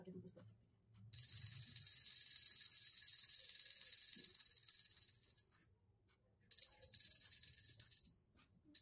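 A small ritual hand bell rings during a Ganesh puja, a bright, high, shimmering tinkle shaken continuously for about four seconds, then a pause and a second shorter ringing spell, close and clear over near silence.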